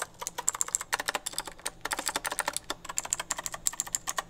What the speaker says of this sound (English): That is a blue switch.